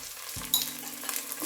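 Chicken tehari with garlic and ginger is stirred in a pan, giving a short, soft scrape and sizzle over a low steady hum.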